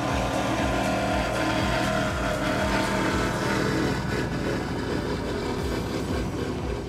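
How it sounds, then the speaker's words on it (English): Engine roar from a 2006 Fountain 42 Poker Run Edition powerboat with twin Mercury Racing 600 engines fitted with Stage 4 Whipple kits, a loud, steady, throbbing rumble that runs unbroken throughout. "a 2006 Fountain 42 with Mercury Racing 600s with Stage 4 Whipple kits"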